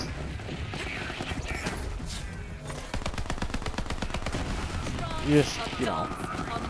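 Gunfire from a ricochet-bullet gun in the video game Borderlands 3: a fast, rapid burst of shots for several seconds, with someone talking over the game sounds throughout.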